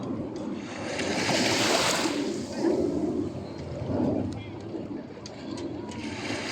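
Sea waves washing steadily at a rocky calanque beach in Marseille, a broad continuous surf wash rising and falling, with wind and a few faint bird calls over it.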